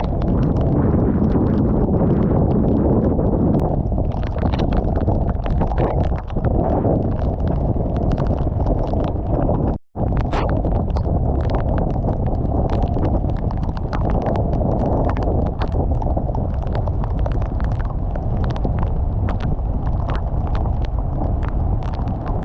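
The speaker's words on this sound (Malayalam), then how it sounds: "ഭയങ്കര കാറ്റായിട്ടാ, കാറ്റും മഴയും" Loud, gusting wind storm roars against the microphone while heavy rain drums and patters continuously, broken only by a brief dropout partway through.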